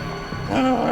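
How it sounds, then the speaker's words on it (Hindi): A dog whimpering and crying beside its stabbed, dead owner inside a house, a short rising whine that swells and holds in the second half, fairly close and loud. "ये कुत्ता रो रहा है।"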